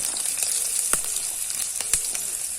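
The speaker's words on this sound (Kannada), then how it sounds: "ಈರುಳ್ಳಿ ಮತ್ತು ಬೆಳ್ಳುಳ್ಳಿಯನ್ನು ಇಲ್ಲಿ ಆ್ಯಡ್ ಮಾಡ್ತಾ ಇದ್ದೇವೆ" Steady sizzling hiss of onion and garlic frying in hot oil, with a few sharp crackles and pops near the start and end.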